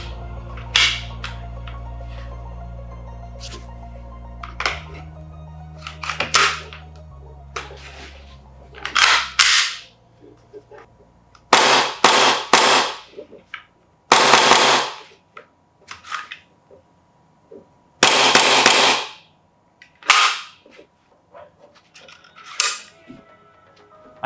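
An AEGIS FMG9 gas blowback airsoft gun fires 0.2 gram BBs on a 100 PSI tank, with sharp, loud bursts of rapid shots spaced by pauses after an opening stretch of low humming.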